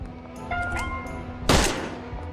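Video-game gunfire bursts out in a sharp, loud volley over a steady electronic hum and background game sounds.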